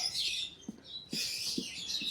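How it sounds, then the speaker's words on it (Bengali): Small lovebirds chirp in high, busy bursts in a zoo aviary in Darjeeling, with faint tapping and scratching underneath; no one speaks. "এটা লাভ বার্ড।"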